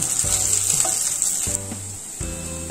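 Veg shammi kebab patties made from dal shallow-fry in oil, a close, bright continuous sizzle, with sustained tonal hum running underneath and no speech.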